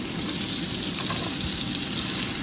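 Skin-on potato pieces sizzling as they roast in a pan, a steady close hiss of frying with a faint bubbling crackle and no talk.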